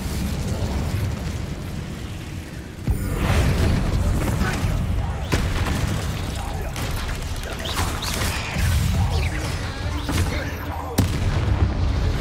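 Fiery spell blasts in a Hogwarts Legacy combat fight, with loud booming bursts landing at about 3, 5 and 11 seconds over a dense, continuous rumble of battle noise.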